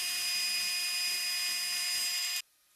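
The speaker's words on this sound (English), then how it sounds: "Now back at the table saw, I can rip a piece of 3/4 inch plywood for the top of the cabinets here." A table saw rips through a sheet of 3/4 inch plywood for a cabinet top. It holds a steady, high whine for about two seconds, then stops abruptly and goes quiet.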